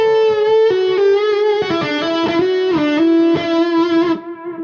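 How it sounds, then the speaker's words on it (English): An electric guitar played through a distortion pedal, loud and close: a few sustained notes and then a quick sequence of picked notes, each ringing with a thick, harmonically rich distorted tone, ending as the last note is cut off. "this pedal is going to really sing with the distortion channel"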